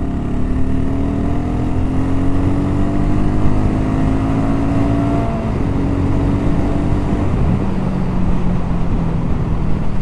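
BSA 650 Goldstar motorcycle engine drones loudly and continuously while riding, with the pitch climbing and shifting through gear changes and strong wind rush throughout.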